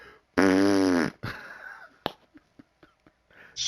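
A person imitates a fart with their voice, giving one loud, buzzy, drawn-out blast followed by a few short breathy puffs and clicks, close to the microphone.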